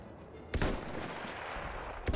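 Gunfire in the video game Battlefield 1 sounds as two loud, close bursts separated by a short gap, over a constant noisy battlefield din.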